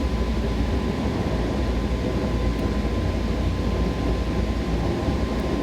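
A BR 110 electric locomotive on the Linke Rheinstrecke in Train Sim World 3 accelerates on full power at fairly high speed, making a steady, loud cab rumble with a constant tonal whine running throughout, with no one speaking.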